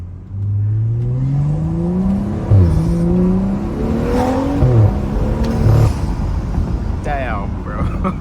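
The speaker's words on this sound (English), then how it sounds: "That overrun drop sound." A tuned BMW F30 335i Stage 2+ is driven hard. The engine revs climb repeatedly through the gears, with short overrun crackle bursts as the throttle lifts, and a voice is briefly heard near the end.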